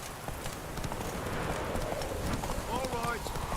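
Roach, a horse in The Witcher 3, gallops with rapid, steady hoofbeats throughout, close and fairly loud, while a voice speaks over the running.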